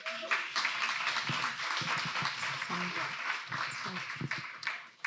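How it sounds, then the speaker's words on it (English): A small audience at a women's business fireside chat claps in brief, uneven bursts while voices talk over and between the applause. "Let's give her a round of applause for that."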